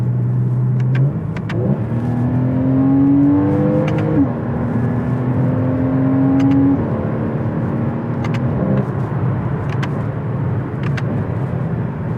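A Porsche Boxster engine revs up through several gears in manual mode on a canyon road, each rising whine cut by a brief drop at the shift, loud and steady from inside the cabin.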